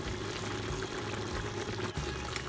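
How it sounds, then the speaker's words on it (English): Blended ingredients for a Ghanaian chicken light soup are poured into the pot, a steady close liquid pouring sound that runs unbroken for a couple of seconds. "I'll now go ahead and pour it in there."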